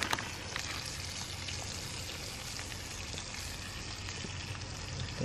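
Fish frying over a homemade wood burner, a steady, even sizzle with faint crackles running throughout at close range and moderate volume, with no talking.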